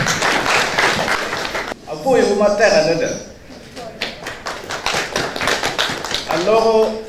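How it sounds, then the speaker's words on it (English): An audience at a panel discussion on electoral reform in Gulu City, Uganda claps hands in bursts, with voices speaking over and between the clapping. "let's clap our hands to our panel"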